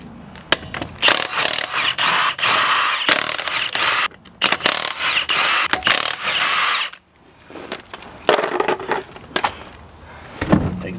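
An impact wrench rattles off 22 mm (7/8 in) lug nuts from a 2008–2012 Chevrolet Silverado 1500 wheel in loud repeated bursts with short pauses, followed by quieter clinks of the nuts being handled.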